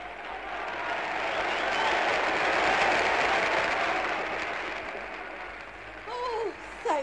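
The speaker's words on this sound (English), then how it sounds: "Now, if they'd only applaud like that all time." A theatre audience applauds, a broad wash of clapping swelling to a peak and easing off, with a few voices and laughs heard near the end.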